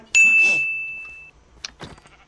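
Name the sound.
sheep bleating in Minecraft video game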